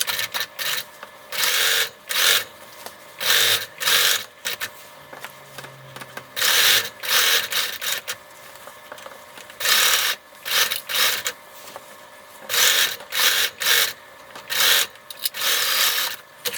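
A domestic sewing machine runs in repeated short bursts, stitching a costume robe seam with backstitching at the start and stop of each pass; the motor whirs close and steady with brief pauses between runs, and no one talks.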